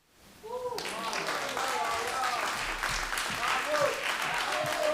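An audience breaks into sustained applause for a poet at an international festival gathering, swelling in after a quiet start and holding steady, with a voice talking over the clapping throughout.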